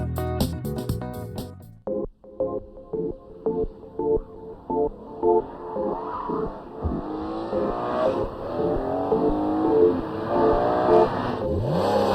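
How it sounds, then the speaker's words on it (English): BMW's latest M3, its 3.2-litre inline six revving hard on a race track, with sharp throttle blips and gear changes building into sustained high-pitched acceleration, loud and close. "This is BMW's latest M3, the third in the series and the most powerful ever."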